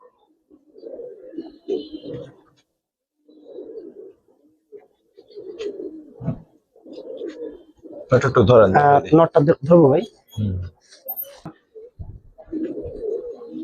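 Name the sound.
old-breed pigeons cooing in a loft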